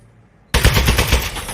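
An Aperture Science turret in the game Aperture Desk Job bursts into loud rapid automatic fire after a moment of near silence, a close, continuous rattling volley.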